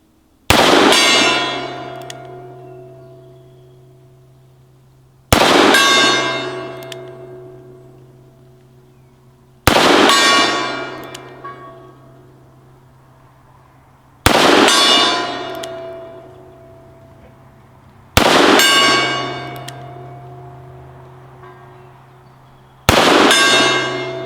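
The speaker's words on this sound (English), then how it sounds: "12 shots on the Gong that will be there forever." Six loud metallic clangs from bullets striking a large steel gong target outdoors, each impact ringing out with a long sustained, humming tone that decays slowly before the next hit, spaced about four to five seconds apart.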